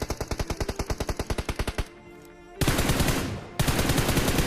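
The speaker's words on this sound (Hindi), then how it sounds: "जो उसका दूसरा टीममेट था सेम टाइम पे उसने भी फायर कर दिया मेरे पे" Automatic gunfire in a multiplayer shooter game: a rapid rhythmic burst of shots, a brief lull, then two dense sustained volleys, loud and close with no talking.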